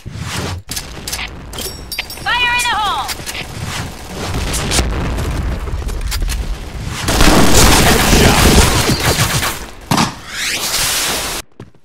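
A grenade explodes in a first-person shooter game, set amid loud booms and rapid gunfire, with a heavy blast building midway and sharp cracks trailing off near the end.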